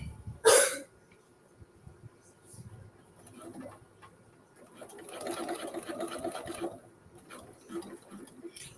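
A domestic sewing machine stitches a short bar tack at the bottom of a pair of jeans, a brief burst of fast mechanical whirring after a loud knock and some quiet handling, with a person talking nearby.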